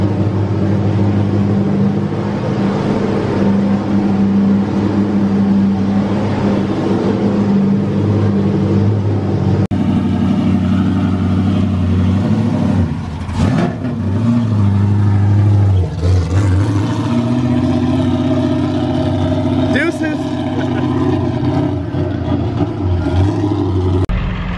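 A 408ci LS V8 car engine runs on a dyno during a tune on 91 octane, a loud, sustained droning roar that holds steady, then shifts pitch and surges partway through with brief changes in load.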